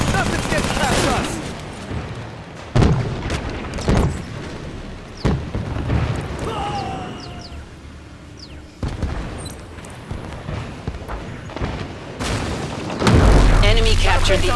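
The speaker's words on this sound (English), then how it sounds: "Watch the rocket fire." Rocket fire from Spartans in Halo 5 Warzone, a game battle with repeated loud booming blasts and bursts scattered across the scene, with voices talking throughout.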